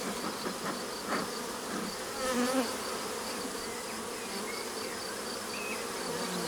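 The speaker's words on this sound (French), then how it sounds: "Il y a tout un paquet d'abeilles là sur le bout." Honeybees swarm and buzz in a dense, steady drone around an open hive as a beekeeper works the frames, the hum close and continuous for the whole stretch.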